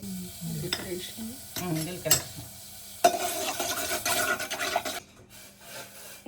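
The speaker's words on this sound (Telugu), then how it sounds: "ఇప్పుడు అయితే మరుగుతుంది" Water comes to a boil in a pot for cumin water, a steady bubbling hiss building after a brief voice near the start, then cutting out shortly before the end.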